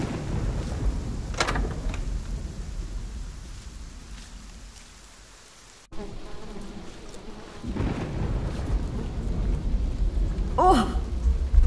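Steady rain with occasional thunder rumbles in The Pillars of the Earth, a medieval-set game, forming a continuous wet hiss with a deep roll partway through and brief voice-like sounds near the end.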